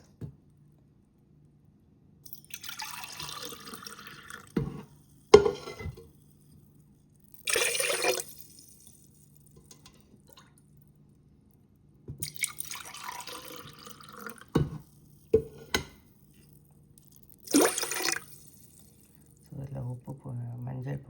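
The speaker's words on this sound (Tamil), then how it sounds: "இப்போ இதில் 2 டம்ளர் தண்ணி ஊற்றுறேன்" Water is poured from a tumbler into a pot for South Indian venpongal in several separate splashing bursts, with quiet pauses between pours.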